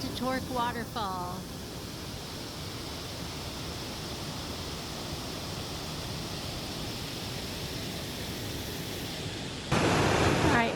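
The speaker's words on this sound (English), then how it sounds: "We made it to Torc Waterfall." Torc Waterfall in Ireland sends up a steady broadband roar of rushing water that holds constant throughout and swells louder near the end, with brief voices at the start.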